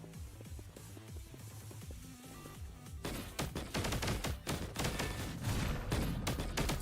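Rapid gunfire from the video game Punishing Gray Raven, a dense loud fusillade of quick shots that swells into continuous bursts in the second half, with no talk over it.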